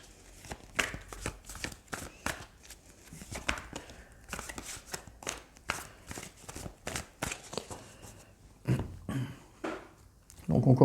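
Tarot cards are shuffled and drawn by hand in a run of quick riffling bursts and soft slaps, close and fairly quiet, with brief pauses between handfuls.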